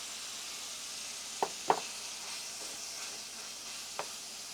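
Ground beef sizzling steadily in a frying pan, with a few sharp knocks and scrapes as it is chopped up and stirred; no voices.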